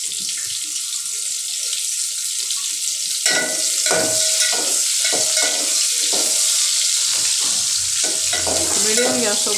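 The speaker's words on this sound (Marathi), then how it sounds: "मीडियम गॅसवर बोंबील लाल होईपर्यंत परतवायचे." Bombil (Bombay duck fish) frying over medium gas in a pan while being stirred, a steady close sizzle with scraping strokes of the spatula, loud and continuous, no talking.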